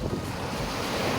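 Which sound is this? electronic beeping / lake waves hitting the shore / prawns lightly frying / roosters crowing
lake waves hitting the shore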